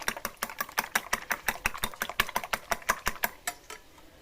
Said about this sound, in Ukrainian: Так треба добре-добре збити.